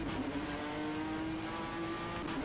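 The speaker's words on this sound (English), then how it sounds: "You just hear that punchy downshift." A BTCC NGTC touring car in the rFactor 2 racing sim, its engine a loud, steady near drone with a sharp downshift blip, running alone without voices.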